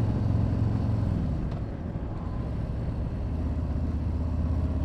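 An Indian Chieftain motorcycle rides along in third gear, its engine a steady, close, low rumble that dips slightly midway and then holds an even drone.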